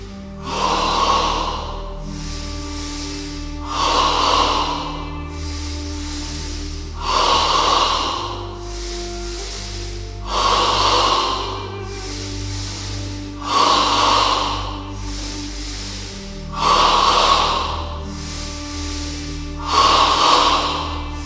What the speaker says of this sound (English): the breath moves from the abdomen to the chest